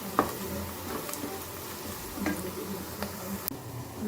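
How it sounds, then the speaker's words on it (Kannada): Onions fry in a pan with a steady low sizzle, broken now and then by soft scraping and knocking from a spoon, heard close and alone at a fairly quiet level. "ಈರುಳ್ಳಿ ಚೆನ್ನಾಗಿ ಫ್ರೈ ಆಗ್ತಾ ಇದೆ"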